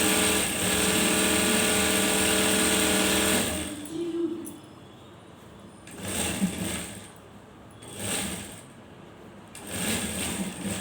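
Sewing machine running a steady continuous stitch along the edge of cloth for several seconds, then stopping, followed by quieter handling sounds and short bursts of motor noise.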